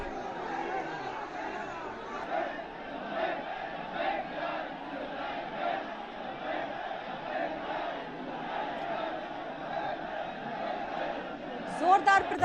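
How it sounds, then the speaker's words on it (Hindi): A large crowd of protesters in Bareilly, India, raising a dense, continuous roar of shouting and chatter close by, with a few sharper bursts near the end. "जोरदार प्रदर्शन और भारी भीड़"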